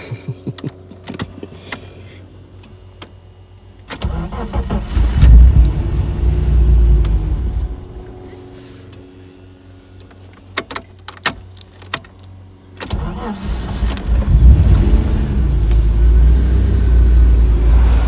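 A Ford Sierra Mk1 2.8i engine cranks over and catches, settling into a rough idle, then cranks and starts again after a pause; close and loud with some clicks.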